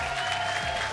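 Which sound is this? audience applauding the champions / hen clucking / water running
audience applauding the champions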